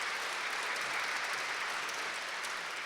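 Audience applause at a book presentation, a dense continuous wash of clapping heard alone from start to finish, at moderate distance.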